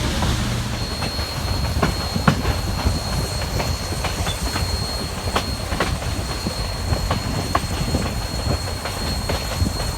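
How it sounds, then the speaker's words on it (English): A scenic tourist train in Bryson City, North Carolina rolls along with a steady rumble, rhythmic clickety-clack of wheels over rail joints and a thin high wheel squeal, heard from on board and continuous throughout. "the next few clips, short clips, are going to be of that little train ride"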